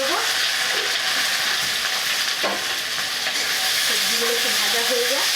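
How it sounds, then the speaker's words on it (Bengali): Vegetables dropped into hot oil for a flattened-rice pulao fry with a loud, continuous, close sizzle and hiss that barely varies, with faint stirring underneath. "তেলটা গরম হয়ে গেছে, আমি এখন দিয়ে দিলাম সবজিগুলোকে।"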